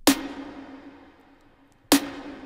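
Trap snare sample made from five stacked layers, struck twice with a sharp bright crack and a short ringing tail, dry and alone.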